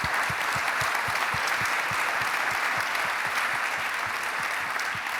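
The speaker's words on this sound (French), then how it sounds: "vous pouvez les applaudir" An audience at an annual transport federation congress breaks into sustained applause, dense clapping holding steady and loud from start to finish, with no voices over it.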